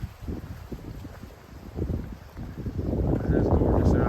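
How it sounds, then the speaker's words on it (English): Breezy morning wind buffeting the microphone on the Billy Goat Trail, Section A, a rough low rumble that swells and grows stronger toward the end. "It's a little breezy this morning"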